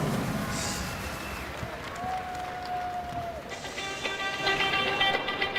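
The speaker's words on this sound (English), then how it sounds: "Round of applause for the TCU Showgirls." A large crowd applauds and cheers across a big arena at a Texas vs TCU basketball game in Daniel Meyer Coliseum, a steady wash of clapping with whistles and tones, growing louder toward the end.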